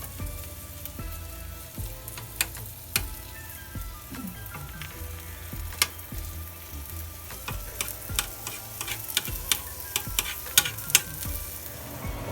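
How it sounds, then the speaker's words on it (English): Food sizzles and spatters steadily in a hot pan while a quick breakfast cooks, with sharp crackling pops scattered throughout and no voices. "it has been frying for a little while"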